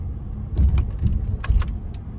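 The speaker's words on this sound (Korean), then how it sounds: "지금 이렇게 방지턱 넘을 때 네, 이렇게 소리가 나요" Inside an Audi A8 with worn front suspension bushings and about 180,000 km, a few dull clunks and knocks sound over a low road rumble, with light rattling as the car rolls over a speed bump.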